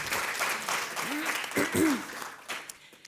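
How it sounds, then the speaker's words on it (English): Conference audience at a sustainability event applauding steadily, a moderate broadband clatter of many hands with a few voices speaking over it, fading slightly toward the end. "Maybe a round of applause."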